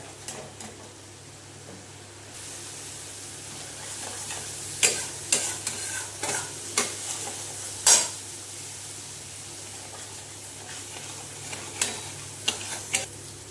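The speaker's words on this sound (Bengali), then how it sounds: "এবার এটাকে দিয়ে ভালো করে আমি কষে নেব মশলাটা।" Spice paste with salt stir-fried in a pan for a potato and borboti (long bean) curry: steady sizzling, close, punctuated by sharp scrapes and clanks of the spatula against the pan.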